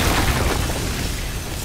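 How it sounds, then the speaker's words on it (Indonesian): An explosion during a firefighting scene in a drama film: a dense, loud low rumble that stays broad and steady for under two seconds, with no talk over it. "terjadi suatu yang sangat membahayakan karena tragedi ledakan api yang terjadi secara tiba-tiba dan Jiang Yu lah yang menjadi korban"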